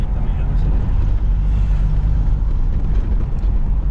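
A small four-wheel-drive truck with a turbo engine idling up close, a loud, steady low rumble with no change in pace across the clip.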